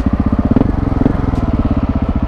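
A KTM 690 Enduro single-cylinder motorcycle engine thumps loudly while being ridden, with a close, rapid, evenly pulsing beat that briefly swells before settling back.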